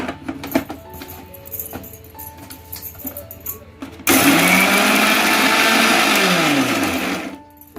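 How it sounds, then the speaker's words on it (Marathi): A mixer grinder blends soaked ingredients with water for Konkani varan, first some clattering and handling, then a loud, close motor roar that whines steadily for about three seconds before winding down. "एकदा आपण मिक्सरचा भांडा फिरवलेला आहे"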